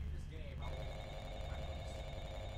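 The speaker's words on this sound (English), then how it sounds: "hey, is it ringing? Yeah, it's ringing." A telephone in a video game rings with a steady electronic trill, starting just after a moment of talk and continuing under voices over a dense background.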